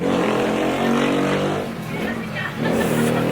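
A car with loud aftermarket mufflers roars past on a street in the Philippines, a continuous rumbling engine drone that swells and dips close by.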